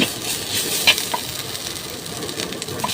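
Pork offal stir-fried with cumin leaves sizzles and hisses steadily in a hot pan, with a brief clink of a utensil scraping and stirring close up.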